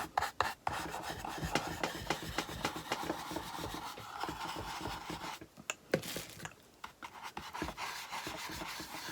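Brown wax is rubbed by hand around the edges of a wooden farmhouse cookbook holder, giving a steady scratchy rasping of cloth on wood in repeated strokes, with brief pauses between passes.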